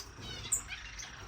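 Owl finches in an indoor bird room give a few faint, brief chirps, one high tweet standing out over a soft hiss of room noise.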